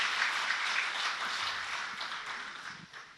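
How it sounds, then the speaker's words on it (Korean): Applause from the audience at an award ceremony, many hands clapping together in a broad, continuous roar that slowly fades over a few seconds, with no talking over it. "네 분께 여러분 뜨거운 축하의 박수 보내주시면 감사하겠습니다"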